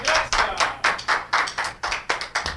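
Audience applause on a Brazilian television talk show greets an arriving guest: a short burst of crisp, rhythmic claps that are loud and close, with no voices over it.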